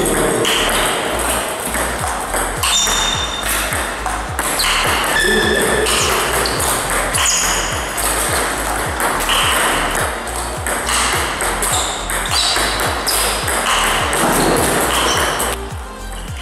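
Table tennis ball struck by a carbon blade in a practice hall, a fast regular series of sharp, loud pings and knocks, rally after rally, with table bounces between hits and faint voices in the background.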